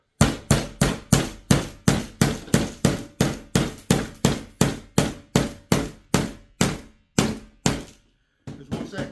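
A hammer drives a nail into a wooden bee hive box with about twenty loud, evenly spaced, close thunks, then a short pause and a couple of lighter taps.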